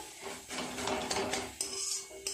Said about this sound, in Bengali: ঢাকাটা এবার খুলবো।